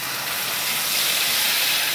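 Spices dropped into hot oil with black cumin in a kadai sizzle with a dense, steady hiss, loud and close, with no talk over it.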